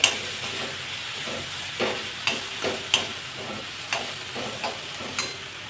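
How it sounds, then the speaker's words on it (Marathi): Salted vegetables sautéed in a pan at home give a steady low sizzle and hiss, broken by several sharp scrapes and knocks as a spoon stirs them. "सगळं छान असं परतायचं वास पण खूप असं छान येते"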